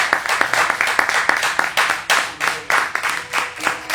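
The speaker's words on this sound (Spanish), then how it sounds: "Démosle un aplauso al Señor." A church congregation claps together in a steady rhythmic beat, the hand claps close and lively throughout.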